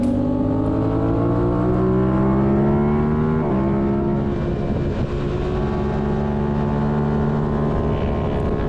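Motorcycles on the Harris Hill race track during a track day, one quickly passing another, with loud, sustained engine whine close by that climbs in pitch, dips at a shift, then holds high and steady.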